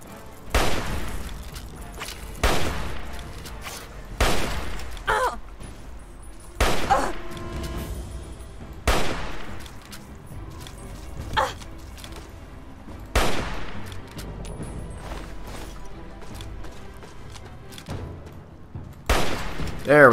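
Gunfire in Fallout 3 comes as a series of separate, sharp reports, roughly a dozen loud cracks spaced a second or two apart, each with a short decaying tail over quiet game ambience.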